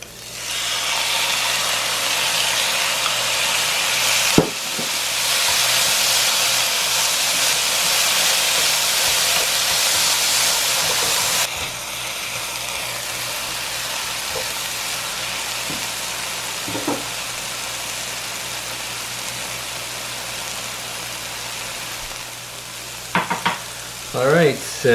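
Kimchi sizzles and fries in a hot pan for kimchi fried rice, a loud dense hiss that flares up as it is stirred, easing partway through, with occasional scraping clinks of a utensil near the end.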